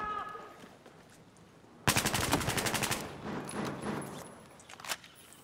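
Rapid automatic bursts of L85 rifle fire in Battlefield 4 team deathmatch on Operation Mortar, a loud close volley of evenly spaced shots followed by scattered distant gunfire and impacts, with brief talk in the background.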